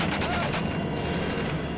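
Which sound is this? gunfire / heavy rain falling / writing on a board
gunfire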